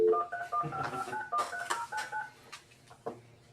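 Telephone keypad tones beep in a quick series of short, distinct dialing pulses as someone calls out during a county development agency meeting. The tones are moderately loud in a quiet room, with faint background sound.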